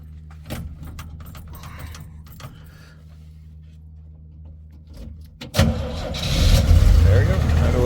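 A 1959 Willys CJ5 Jeep is cranked and fires up, the engine catching after scattered clicks and handling noises and settling into a loud, close, rumbling idle.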